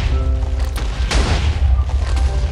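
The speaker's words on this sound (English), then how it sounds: "Them firework things. That fire out the ground." Fireworks bursting up out of the ground in a video game puzzle level: a deep booming launch with rumbling low end, a sharp crackling burst near the middle, fairly loud with no talking.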